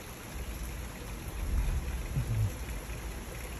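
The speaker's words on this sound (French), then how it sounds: "Donc, vous voyez, là, ça pleut bien." Heavy rain from a mountain thunderstorm falls on sandy ground, a steady, fairly loud hiss of drops with a slight swell partway through and no voices.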